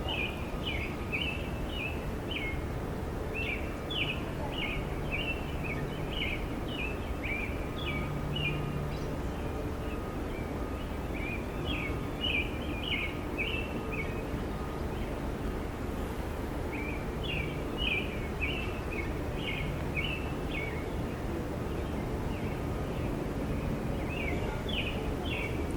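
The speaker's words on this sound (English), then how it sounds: "Listen to that bird." A bird sings outdoors in repeated bursts of high chirping phrases, moderately near, over a steady background hiss with no talking.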